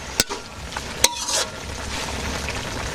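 Cumin paste drops into a hot frying pan of village-style cooking and is stirred, with a steady oily sizzle broken by two sharp spatula knocks against the pan.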